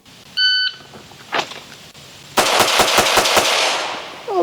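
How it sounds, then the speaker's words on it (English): A shot timer gives a sharp electronic beep, and after a short pause a handgun fires six rapid, loud, evenly spaced shots during a counter-ambush drill. There is no talking. "So this time I want you to shoot 6."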